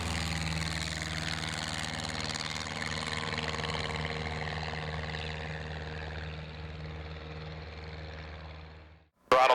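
Tailwheel airplane engine throttled back to about 2,200 RPM, a steady droning hum heard from inside the cockpit, holding level before cutting off abruptly near the end.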